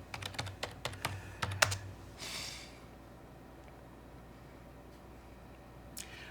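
A burst of quick, close keystrokes on a computer keyboard as a password is typed, followed by quiet room tone and a final soft tap, with no talking.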